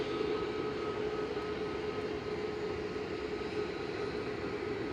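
A KLM Boeing 737-800 heads out for Amsterdam from Manchester Airport, its engines a steady, broad roar with a faint tonal whine, heard from a distance and unchanging throughout, with no talking.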